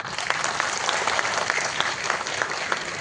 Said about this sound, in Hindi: हम चाहेंगे कि पहले बच्चे अपने लिए ताली बजाएं।